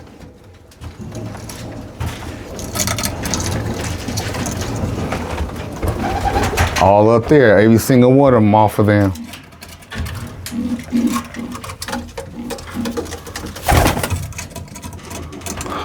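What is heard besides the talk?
roller pigeons cooing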